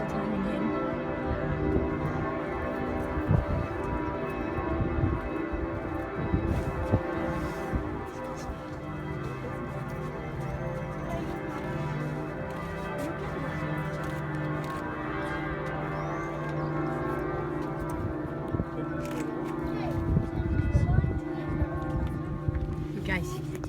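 Large bells ring continuously in the bell tower of Florence Cathedral, heard from the top of the tower as a loud, dense, sustained resonant clangor with overlapping tones, while voices murmur faintly underneath.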